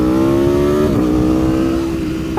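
An Aprilia Tuono V4 with a race ECU flash and sprint filter accelerates hard, its loud, close engine howl rising in pitch, dipping briefly at a gear change, then climbing again.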